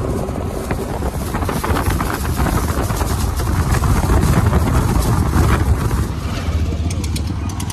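A boat ride: steady engine drone and gusting wind noise buffet the microphone continuously, loud and close, with faint voices underneath.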